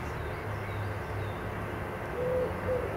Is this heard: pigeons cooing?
yes